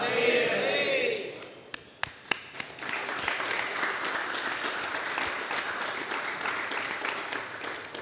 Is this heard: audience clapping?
yes